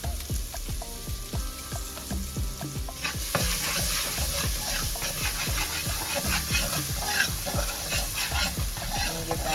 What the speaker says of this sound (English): Okay, now the curry's brown, I'm gonna add the garlic and the ginger.